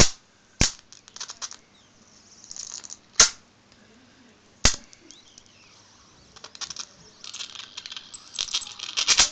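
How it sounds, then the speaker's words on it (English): A Leyden jar capacitor discharges in three sharp, loud spark snaps spaced a few seconds apart, with fainter crackling and ticking in between and a denser burst of crackles at the end. "I like that sound from that capacitor."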